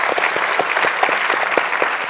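An audience at a talk breaks into sustained applause for arriving guests, a dense, even patter of many hands clapping close by.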